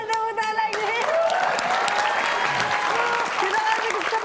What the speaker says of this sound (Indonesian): Oke, kita akan tepuk lagi.